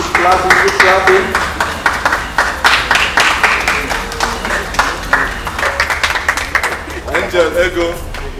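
An audience at a reality show event keeps up a steady run of clapping and applause, close and continuous, heard under a talking voice.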